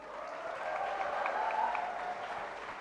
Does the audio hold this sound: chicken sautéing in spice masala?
no